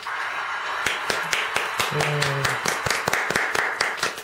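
Scattered clapping from a small group at a diabetes-themed performance, with several sharp, separate claps spaced unevenly over a few seconds, close by, and a brief tonal voice or sound in the middle.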